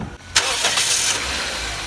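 A car engine cranks briefly and catches, then runs loudly and steadily close by.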